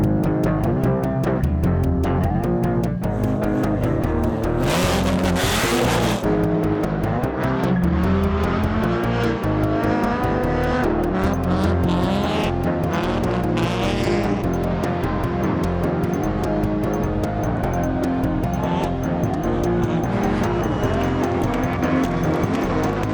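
Drift cars howl at high revs with long tire squeals and skids, a loud, sustained engine roar with bursts of screeching rubber on a greasy competition track.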